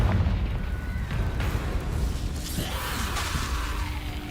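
A Confringo fire blast spell in the Hogwarts Legacy video game bursts out in booming, rumbling explosions over a dense bed of crackling game noise, loud and steady across the whole stretch.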